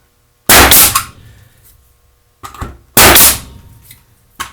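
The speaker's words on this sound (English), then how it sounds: "I've got it in the single fire mode, so every time I pull the trigger it's going to fire a nail" A Max Superframer SN883RH2 framing nailer firing 3-inch smooth-shank nails in single-fire mode: three sharp, loud pneumatic bangs spaced about a second or more apart, each with a brief hiss, in a quiet setting.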